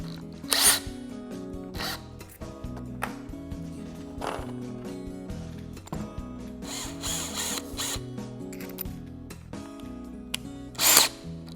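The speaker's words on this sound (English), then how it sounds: "I like to use a drill because it makes it go a little bit quicker" A power drill whirs in short bursts as it drives hardware into a cabinet, its motor rising and stopping repeatedly, with clicks and handling noises between.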